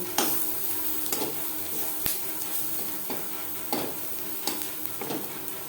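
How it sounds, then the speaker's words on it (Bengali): Onions and turmeric stirred together in a pan for a Bengali masoor dal and snake gourd dish, with a steady low sizzle and periodic scraping strokes of the spoon recurring roughly every second, close and moderately quiet, with no voices. "পেঁয়াজের সাথে হলুদ বেশ ভালো করে মিক্সড করে দেবো"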